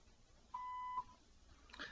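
A single voicemail recording tone, a steady electronic beep of about half a second, sounds clearly over a quiet phone line. A faint rustle follows.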